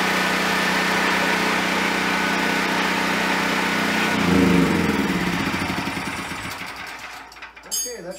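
A PowerMate 7500-watt generator converted to run on propane drones loudly and steadily as its engine is adjusted, then the engine note drops and fades toward the end.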